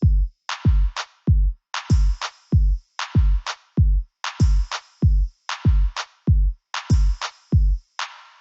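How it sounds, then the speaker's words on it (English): A reggaeton beat with clap samples repeats: punchy deep kicks alternating with sharp bright claps in a steady syncopated groove, dry and loud with no other instruments. "If we turn on this clap here, we can see the whole reggaeton groove."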